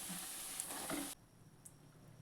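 Corn vadas deep-frying in hot oil give a steady, close crackling sizzle that cuts off abruptly partway through, leaving near quiet.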